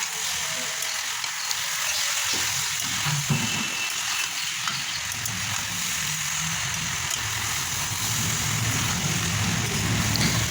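Winter vegetables and ground spices sautéing in a pan for a mourala fish curry, a continuous close sizzle broken by occasional stirring and scraping.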